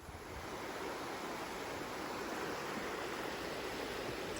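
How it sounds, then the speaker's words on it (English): A river near Townsend Y in the Smokies rushes steadily, a dense continuous broadband flow with no breaks, fairly close and without voices. "So there's a river right there, river right there"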